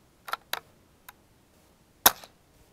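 Aquila subsonic .22 rounds are fired from a Ruger 10/22 rifle, giving a few sharp, fairly quiet cracks spaced apart, the last one louder, with near silence between.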